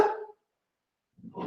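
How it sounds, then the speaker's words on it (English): A pet dog barks once close by, a short sharp burst, then a gap of silence before another rough outburst of barking or yapping. "I'm just going to get the dog"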